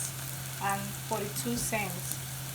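Ground beef sizzling and frying in a hot pan over caramelized ingredients, a steady bright hiss close by, with a person talking over it throughout.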